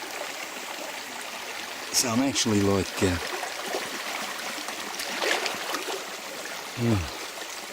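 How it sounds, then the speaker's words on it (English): A creek flows as a steady broadband rush of water, heard close and continuous beneath a man's speech. "It comes down out into the main drive of the creek."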